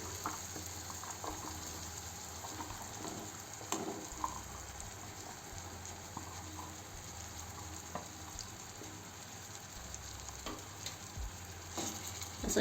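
Chopped bell peppers fry in a pan over low heat, giving a steady, soft sizzle throughout with occasional faint stirring scrapes and no talking.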